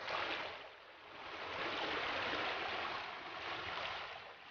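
Steady rush of flowing creek water at Middleton Creek in Tasmania's Tarkine, a soft continuous broadband hiss that swells and eases slightly, with no voices.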